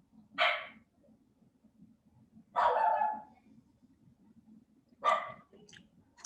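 Three sharp barks from a female dog spaced a couple of seconds apart, close by indoors, over a low background rumble.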